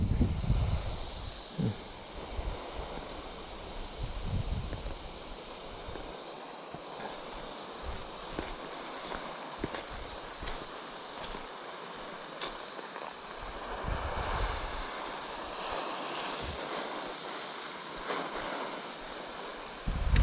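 Wind gusts and the low hum of a water truck's engine carry across a dry potato field in Norway, fairly faint and continuous with occasional bursts of microphone buffeting.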